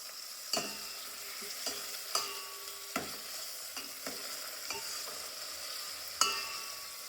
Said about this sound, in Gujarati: તમે જુઓ તો આપણે સારી રીતે મિક્સ કરવાનું રહેશે.